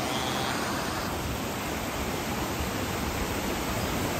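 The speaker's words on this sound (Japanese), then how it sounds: "あれが滝ですね。" A mountain waterfall in a natural setting gives a constant broadband roar of falling water. It is dense and unbroken, fairly loud, with no other sounds standing out.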